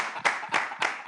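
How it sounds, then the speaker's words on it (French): Sparse, quiet hand claps sound in a French TV studio, three or four distinct slaps spaced at short intervals, close and isolated rather than a full wave of applause. "Applaudissez notre..."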